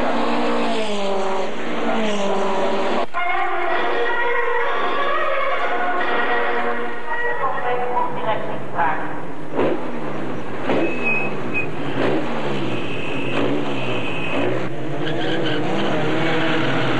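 Formula Opel single-seaters race at Zolder, engines screaming past one after another with rising and falling pitch as each car passes, loud and continuous.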